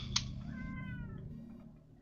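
A cat meows once, with a rising and falling cry, fairly close, over a low steady background hum indoors.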